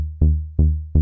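A synth bass layer built from mid and high wavetables plays three punchy, buzzy notes in a syncopated pattern, each struck sharply and decaying quickly, dry and up front in a progressive house production.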